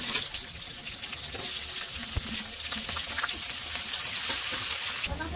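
Onions frying in a pan with curry leaves and cumin, giving a steady broadband sizzle with a brief stir or clink near the middle and no talking.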